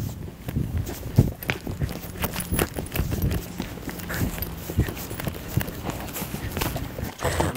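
A ridden horse walks through a village, its hooves clip-clopping on the ground in a steady, fairly close rhythm that carries on throughout.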